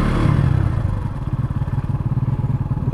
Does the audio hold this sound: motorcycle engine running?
yes